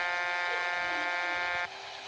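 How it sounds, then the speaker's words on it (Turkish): A loud, flat electronic horn from a bus in a bus-driving video game blares steadily for about a second and a half, then cuts out, leaving a fainter background hum. "Korna çalıyorum yine duymuyorlar."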